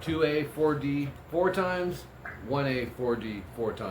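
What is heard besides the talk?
No distinct noise like a dog, phone or traffic.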